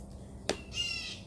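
A crow caws outdoors in the morning, a single faint, hoarse call preceded by a sharp click and set against quiet background noise.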